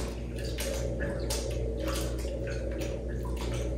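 Acid-dyed fabric is worked gently by gloved hand through warm water, sloshing and splashing softly with squishing, continuous and close.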